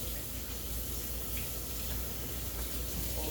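Cold tap water runs into a kitchen sink in a steady, broadband hiss and splash, continuous and fairly close, with no voices.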